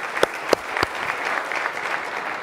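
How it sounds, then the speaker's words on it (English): Audience applause at a Miami business event, a steady wash of clapping with a few sharper near claps at the start, held at moderate level for the whole stretch. "Round of applause, please."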